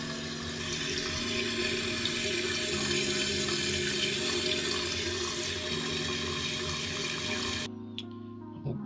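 A toilet tank refills through a newly installed universal repair-kit fill valve, a steady rushing hiss of water running for several seconds before cutting off abruptly near the end.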